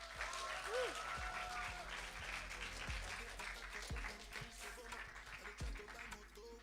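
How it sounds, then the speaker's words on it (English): A talent show audience breaks into sustained applause, dense clapping that holds steady throughout, with a few low thumps and faint tonal sounds mixed in. "Let's get a little round of applause."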